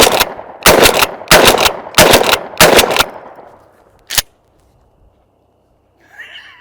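A Maverick 88 pump shotgun loaded with mini shells fires outdoors. Five loud booming shots come about half a second apart, each followed by a short echo, then a single sharper report after a pause.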